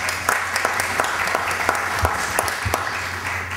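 Applause from the audience at a municipal recognition ceremony for a youth and adolescent council: scattered, sharp individual claps layered over a steady patter, fairly soft and heard from across the hall.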